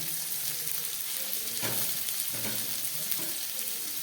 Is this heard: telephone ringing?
no